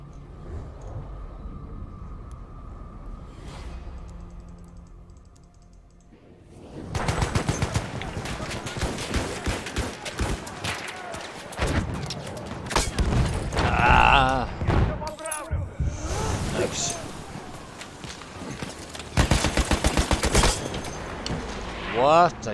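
An M1917 machine gun in the video game Battlefield 1, fired with a telescopic sight in long sustained bursts after a quieter opening, with voices heard between the bursts.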